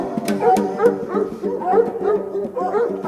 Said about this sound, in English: You wake from a half-sleep and hear the sound of barking hounds in the distance.